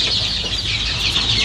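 Free-range village chickens in a pen feed on grated cassava, corn and pellets, giving a few soft clucks over a busy, hissing wash of pecking and background noise.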